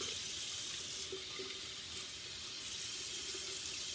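Steady stream of tap water running into a sink while a makeup brush is rinsed, a constant close hiss and splash with faint clinks, no voices.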